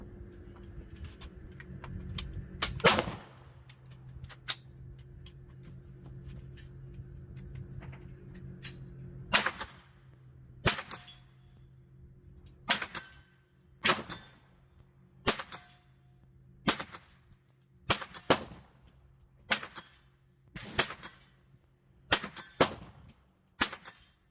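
A Bear Creek Arsenal BC-9 carbine firing Remington UMC 115 grain full metal jacket rounds at a range, with about fifteen loud, sharp reports, slow at first and then at a steady, fairly quick pace.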